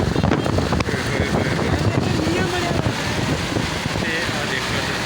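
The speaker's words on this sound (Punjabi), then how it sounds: "ਯਕਦਮ ਹਨੇਰੀ ਆਈ ਹੈ" Strong dust storm wind gusting through Lahore streets, a loud, steady broadband roar with buffeting against the microphone throughout, with faint traffic and voices buried underneath.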